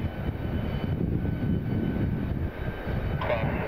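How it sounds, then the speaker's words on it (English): An airliner lifts off at Detroit Metro Airport with a continuous, loud jet-engine roar that holds steady throughout, heard from a spotting position nearby. "hopefully we'll be able to get a shot of it lifting off."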